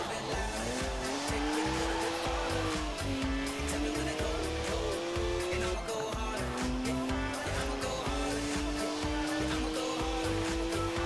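A car doing a burnout in Forza Horizon 4, with loud, continuous tyre squeal over a revving engine whose pitch climbs, dips sharply once and then rises again, sustained throughout.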